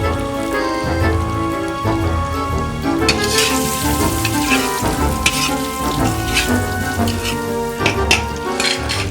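Potatoes sizzling and crackling in hot oil inside a kazan, a dense, continuous spattering fry with bursts of popping throughout.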